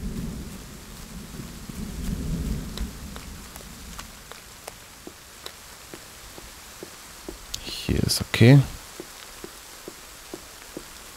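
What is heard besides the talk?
rain and thunder in the video game The Forest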